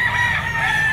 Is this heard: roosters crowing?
yes